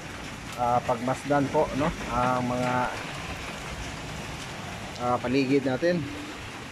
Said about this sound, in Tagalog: may ulan pa rin